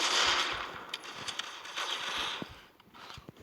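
Video game gunfire rattles in quick bursts and single shots under a steady noisy background, fairly close, with irregular pops scattered across the stretch.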